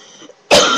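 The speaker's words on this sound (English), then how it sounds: "I cough in every video." A single sharp, loud cough bursts out after a brief faint murmur, close to the listener and over in under half a second.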